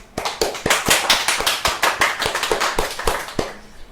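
Scattered applause at a podcast recording, a modest group clapping steadily for a few seconds before it thins out.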